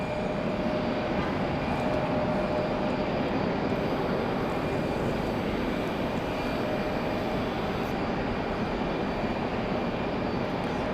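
A Southwest Airlines jet departing Raleigh Durham for Las Vegas on a rainy day gives a steady, broad engine roar at a distance, constant in level throughout with no voices.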